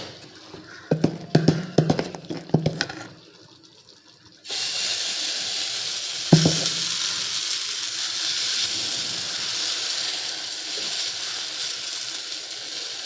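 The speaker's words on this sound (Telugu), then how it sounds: "ఇప్పుడేమో మనం మసాలా దోశ వేసుకుందామండి. ఇది కొంచెం ఘీతోనే వేసుకోవాలండి." Masala dosa batter made with ghee hits a hot pan and breaks into a loud, steady hiss that holds to the end, following a few seconds of talk and clatter.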